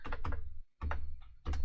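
Fingers type on a computer keyboard while entering a Linux terminal command, giving close, crisp bursts of rapid key clicks separated by short pauses, with no voice.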